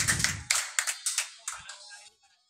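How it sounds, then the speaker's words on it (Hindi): A handful of sharp hand claps ring out at a Class 10 farewell ceremony as students receive medals, a brief sparse burst that quickly fades, with a voice briefly audible at the start. "जैसे ही मेडल पहनेंगे तालियों की गड़गड़ाहट होनी चाहिए"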